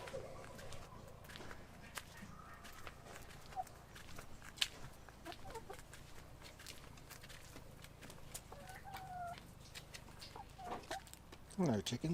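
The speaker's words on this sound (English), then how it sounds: "These chickens running around." Chickens running around a Portuguese farmyard, with soft scattered clucks and short calls over quiet background rustle and faint footsteps, ending in a few louder squawks.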